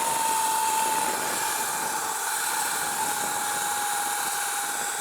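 A Sur Ron Light Bee electric motorbike with a QS165 motor and ERT BAC4000 controller climbing a road hill at full throttle: a steady loud rush of wind over a thin, constant high motor whine, no talking.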